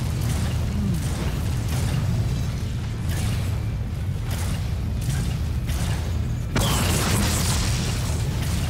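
Enemies blowing up in the fantasy action game Orcs Must Die 2: a dense run of booming bursts and pops over low rumble and clattering mechanisms, ending in a sharper, louder blast.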